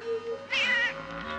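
A cat meows once, a clear drawn-out call in the middle of a quiet indoor scene from a 1977 horror film, with faint background hum before and after.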